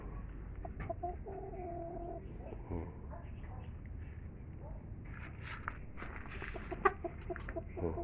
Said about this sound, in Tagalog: Oh, ito yung dalawang manok naming Brahma.